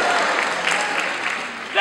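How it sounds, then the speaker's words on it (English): Audience applause fills a talk event, dense and fairly loud clapping that holds steady throughout with a small swell at the end. "That guy that started the applause"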